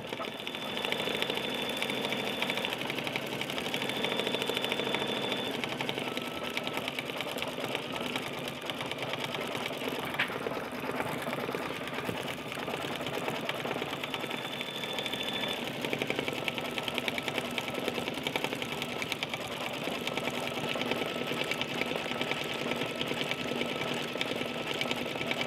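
A home embroidery machine stitches an in-the-hoop bear lovey, a steady close-up mechanical whirring and rapid clatter that runs without pause for the whole stretch, with no one talking.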